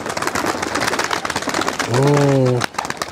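Pigeons kept in a rooftop loft, one of them sick, give a clear low cooing call near the end, heard over a busy background of talk and rustling.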